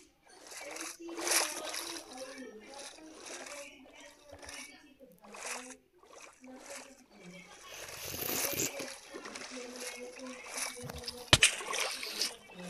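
Water splashes and sloshes as a character swims in Minecraft, with soft repeated splashing in bursts and someone talking over it throughout.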